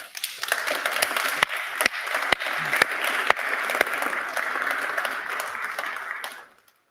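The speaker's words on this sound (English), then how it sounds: "we need to give to him a great, great applause that comes from our heart" Enthusiastic applause from an audience, sustained and full with sharp individual claps, then cutting off abruptly at the end.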